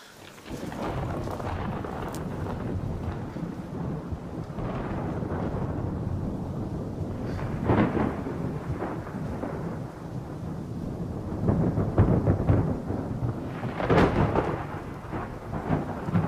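A thunderstorm rumbles outdoors with heavy, rolling thunder and loud cracking peaks over a steady wash of rain, with no voices.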